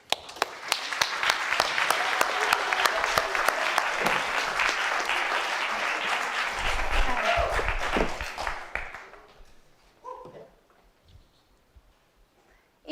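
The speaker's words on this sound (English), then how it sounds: "Let's get a round of applause to welcome Akela." An audience at a college speech night applauds to welcome a speaker, starting with a few sharp claps, swelling into full, steady applause, then thinning out and fading to scattered claps and quiet.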